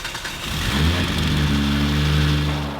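A drag car's engine turns over and fires, then settles into a loud, steady, rumbling idle with strong low harmonics, close by with no talk.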